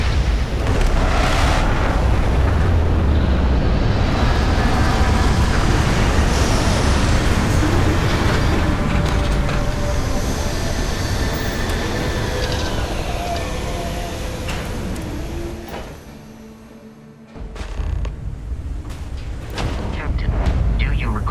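Spaceship landing in Starfield: a loud, sustained rumbling roar with rattling mechanical clatter that thins and drops away near the end, then surges back briefly.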